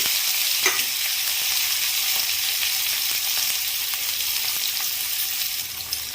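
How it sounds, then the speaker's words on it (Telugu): Chopped onion and green chillies frying in hot oil for a tomato egg curry, a loud, even hiss of sizzling with faint scraping ticks, steady throughout and close up. "ఇందులోకి మనం కట్ చేసుకున్న ఆనియన్ పచ్చిమిర్చిని యాడ్ చేసుకోవాలి"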